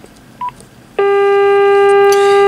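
Telephone keypad gives a short DTMF beep, then a brief pause, then one loud, steady tone that holds for over a second, close and clear with no talking.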